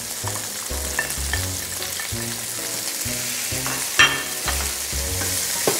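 Seasoned meat sizzling and browning in a hot pan, a loud continuous frying hiss broken by repeated stirring knocks and scrapes, with no voices.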